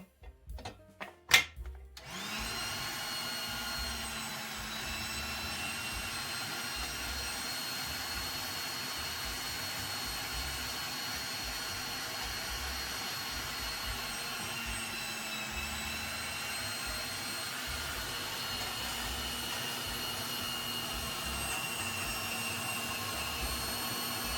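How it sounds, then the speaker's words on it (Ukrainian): An electric meat grinder grinds beetroot in a kitchen: a few clunks at the start, then a loud, steady motor whine that runs on without a break. "Але я теж використовую м'ясорубку."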